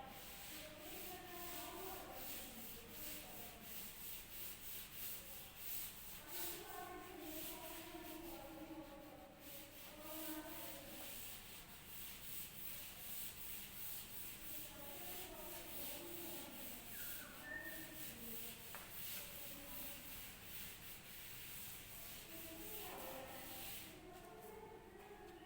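A duster rubs across a classroom board to wipe away writing, soft faint scrubbing strokes in a long steady series, with a quiet voice murmuring at times.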